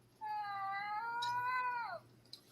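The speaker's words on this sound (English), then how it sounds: "That was somebody's cat." A cat gives a single drawn-out meow lasting nearly two seconds. It is fairly faint and heard alone, with a soft click just after.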